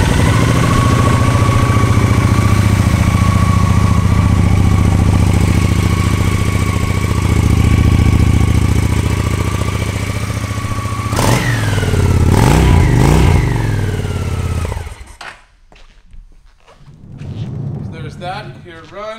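A 2002 Honda Shadow 750 motorcycle engine running loud and close with a steady idle rumble, a brief rev near the middle, then shutting off, followed by faint background noise and muffled voices.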